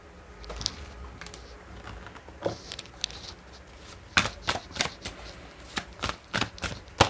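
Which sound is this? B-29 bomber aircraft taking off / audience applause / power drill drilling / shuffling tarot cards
shuffling tarot cards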